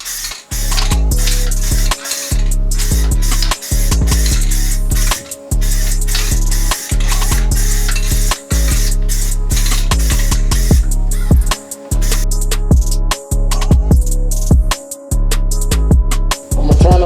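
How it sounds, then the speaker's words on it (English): An electric airless spray gun sprays Rust-Oleum primer, hissing loudly in long continuous bursts, broken by brief pauses, with a constant motor whine underneath. "we're gonna go ahead and start priming everything with that primer"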